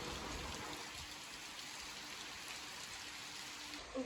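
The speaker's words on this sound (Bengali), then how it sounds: "ঝমঝম করে বৃষ্টি পড়ছে সকালবেলা" Morning rain falls in a steady, soft wash of hiss, continuous and fairly faint, with no voices over it.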